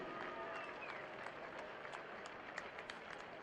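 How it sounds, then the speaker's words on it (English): Stadium crowd at a professional rugby match between the Toronto Arrows and Rugby United New York applauding steadily, a dense wash of clapping at moderate distance with a few sharper claps standing out. "Fans, help a big round of applause for Mr. Ron Andrews."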